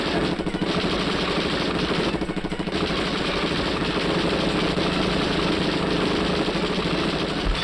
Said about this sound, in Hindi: 2 गुंडे आते हैं और हमारे जेकी दादा के ऊपर फायरिंग करना शुरू कर देते हैं